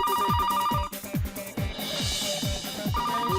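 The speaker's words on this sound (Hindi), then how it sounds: "अरे पूरी की पूरी घंटी बज गई और आपने फोन ही नहीं उठाया।" A phone ringtone plays steadily, a repeating electronic melody with rhythmic pulses, loud and continuous throughout.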